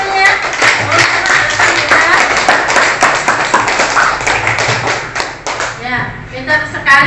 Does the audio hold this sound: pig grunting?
no